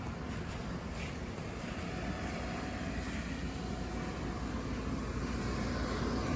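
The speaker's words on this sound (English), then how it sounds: "The blower is a 750 watt blower. The noise level isn't too bad." A steady, low, unbroken drone from a 750-watt air blower inflating a 33-foot outdoor projector screen fills the whole stretch, constant in level with a faint rushing of air over it.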